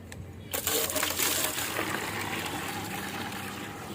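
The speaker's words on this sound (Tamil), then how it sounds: "செடிக்கு தண்ணி ஊற்றலாம்." Water poured from a bucket onto potted plants in a terrace garden: a steady, close splashing trickle that starts abruptly after a brief quiet moment and continues alone.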